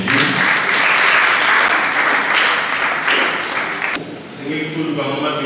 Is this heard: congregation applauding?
yes